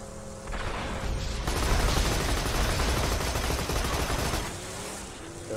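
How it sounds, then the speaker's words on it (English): Heavy gunfire in the video game Borderlands, a dense, loud, sustained barrage of shots and impacts that rises, holds and then fades slightly toward the end. "Sniper rifles."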